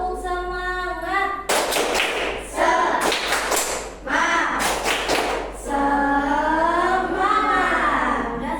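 Schoolchildren in a classroom perform the 'tepuk semangat' clap routine, rhythmic bursts of group claps broken by short pauses, with the class chanting and voices singing along between and over the claps.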